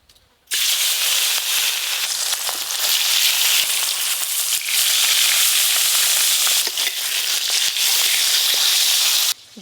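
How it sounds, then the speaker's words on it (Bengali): Rohu fish pieces fry in hot oil with a steady, loud crackling sizzle that starts abruptly after a brief silence and continues unbroken, peppered with sharp spits and pops. "এবার মাছগুলো ভেজে নেব।"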